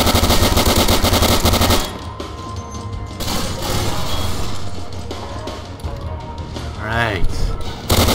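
Rapid bursts of video game gunfire in Garry's Mod, loud and dense for the opening two seconds, then quieter scattered shots and game effects with a voice talking over them.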